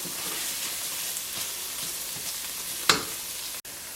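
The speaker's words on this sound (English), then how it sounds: "we want the tomato paste to caramelize just a little bit" Tomato paste caramelizes in a hot pan alongside beef short ribs, giving a close, continuous sizzle and crackle with a brief louder spatter near the end.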